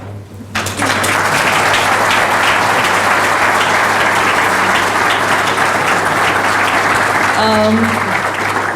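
A conference audience gives steady, full applause that holds at an even level throughout over a low electrical hum, with a brief voice sounding near the end.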